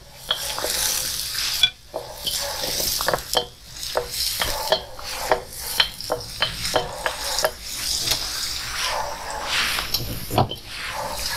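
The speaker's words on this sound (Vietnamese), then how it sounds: "Sau khi mà cái chảo dầu nóng, hơi nóng, mình cho tỏi băm với lại" Minced garlic, lemongrass and chili fry in a pan of hot oil with a steady sizzle, while a utensil scrapes and taps against the pan in an irregular stirring rhythm close by.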